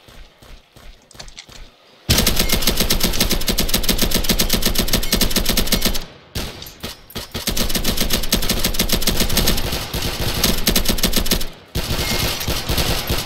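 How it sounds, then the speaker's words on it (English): A minigun firing in a multiplayer video game, loud continuous rapid-fire bursts lasting several seconds each, separated by brief gaps, with lighter clicks and shots at the start. "I will pick up this minigun as a light character"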